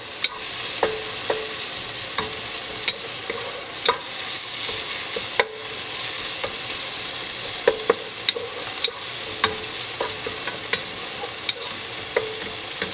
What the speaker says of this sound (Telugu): ఆనియన్స్ గోల్డెన్ బ్రౌన్ వచ్చినాక తర్వాత అల్లం వెల్లుల్లి పేస్ట్ని యాడ్ చేసుకొని బాగా పచ్చివాసన పోయేంత వరకు ఉడికించుకోవాలి